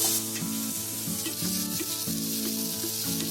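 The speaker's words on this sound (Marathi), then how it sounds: "तेल तापलंय. आता त्याच्यामध्ये मी जिरा टाकते." Cumin seeds sizzle in hot oil with a steady crackle, close and alone, with no voices. A repeating tonal hum pattern runs underneath.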